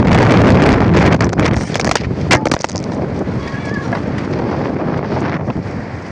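Strong wind buffeting the microphone, a loud rushing roar with gusty bursts, easing slightly toward the end.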